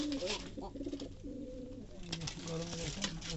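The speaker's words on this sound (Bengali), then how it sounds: "কবুতর ডাকতেছে" Pigeons coo repeatedly in a small loft where a pair sits on eggs, their soft throaty calls overlapping and close, with a voice speaking over them.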